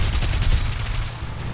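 Aircraft cannons and machine guns firing in the War Thunder video game, a rapid dense burst of shots that stays loud, then thins slightly toward the end, with no talk.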